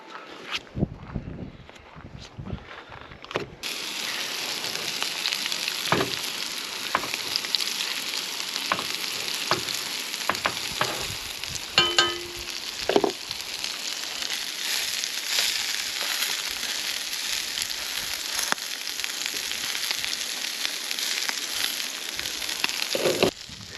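Steak frying in a pan at an outdoor campsite, a loud continuous sizzle and crackle running throughout after a quieter opening, with occasional knocks and shuffling nearby, no talking.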